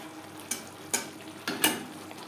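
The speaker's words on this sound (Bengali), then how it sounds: "মশলা কষানো হয়ে এসছে" Fried spice masala being stirred in a pan with oil, a soft background sizzle broken by four distinct scraping strokes of a spoon against the pan, close and fairly quiet.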